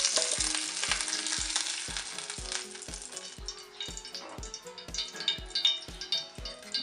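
Vegetable ghee sizzles and fries loudly in a pan while making wheat-flour barfi, a steady crackling hiss with a regular series of soft low thumps beneath it, no talking.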